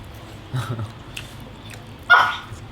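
Two short dog barks in a home setting, the first a softer yelp and the second louder and closer, separated by a pause of about a second and a half.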